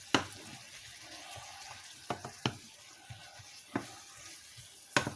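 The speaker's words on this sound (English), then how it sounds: "I'm going to stir it up a little bit." Vegetables for a Western omelette cook in a pan with a faint sizzle while a utensil stirs them, giving several sharp scrapes and clacks spaced irregularly against the quiet background.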